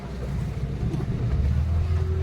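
Boat engine rumbling steadily on the sea off Chivla Beach, Malvan, a continuous low drone with water and wind noise, no talking.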